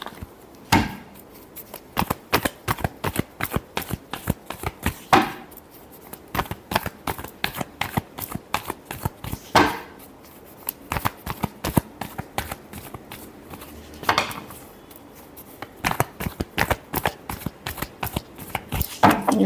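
A deck of cards is shuffled by hand for a tarot-style reading, with rapid riffling bursts and sharp flicks repeating in uneven clusters, close and clear, with no talking.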